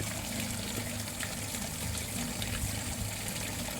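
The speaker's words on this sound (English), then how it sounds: "open the ball valve, and we'll take a look at what comes out there." Dirty water flows out through an opened ball valve on a pond filter, a steady close rushing gush that continues unbroken throughout, with no voices.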